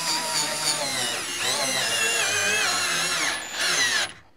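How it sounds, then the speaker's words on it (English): Power drill fitted with an Allen wrench turning an eye lag screw on slow speed, a steady close whine that wavers slightly in pitch for about four seconds, then stops abruptly. "One of my favorite ways is with a power drill and an Allen wrench. I do it on the slow speed and just take it nice and easy"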